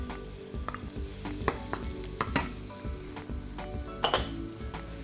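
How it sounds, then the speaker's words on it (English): Finely chopped shallots and chestnut mushrooms frying in a pan: a steady close sizzle runs throughout, broken by stirring scrapes and occasional clinks of utensil against the pan. "I'm going to leave those to fry around about 5 minutes"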